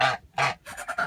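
Geese honking close by, a few loud nasal calls in quick succession with short gaps between them.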